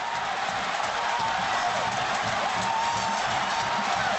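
A packed stadium crowd roars after a Michigan State touchdown against Wisconsin, a constant dense wash of cheering and noise with no breaks, heard from a distance in the stands.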